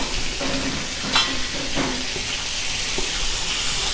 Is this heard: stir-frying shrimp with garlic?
yes